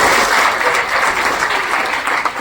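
A school audience at a lecture bursts into a short, loud, dense round of applause, steady throughout the brief moment.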